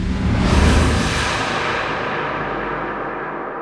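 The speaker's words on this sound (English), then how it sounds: "But with a compressor, a big delay, and a whole bunch of reverb, it sounds like this." A reversed sound swelling through a compressor, big delay and heavy reverb rises into a dense washy bloom, then slowly trails off into a long darkening reverb tail.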